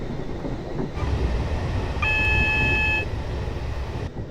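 Class 444 electric train rolling along the Portsmouth Direct Line in Train Simulator 2015, a continuous rumble with a steady electronic in-cab tone sounding for about a second midway.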